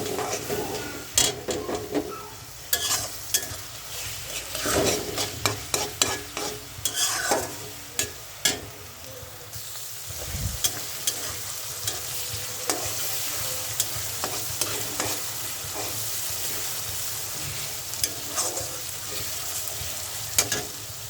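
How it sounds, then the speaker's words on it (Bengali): Banana flower curry fries in oil while being stirred, a near sizzle broken by frequent sharp scrapes and knocks of a spoon against the pan, with no speech. "এবার আমি ভালো করে নেড়ে করে নিব।"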